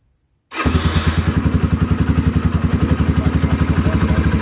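A Maya Maha XT125X motorcycle engine catches with an abrupt start after near silence, then settles into a loud, close, rapid and even single-cylinder putter that holds steady to the end.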